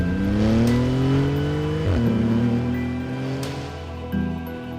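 A 700-horsepower 2018 Porsche GT2 RS engine revs hard, pitch climbing, dropping sharply, then climbing again, loud and close throughout.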